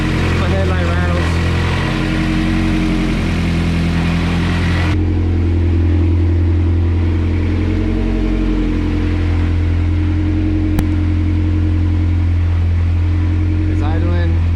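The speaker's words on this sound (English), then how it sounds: "It's idling." A Honda CRX with an all-motor B17 engine idles steadily while warming up, a low continuous hum with a faint rattle, under someone talking.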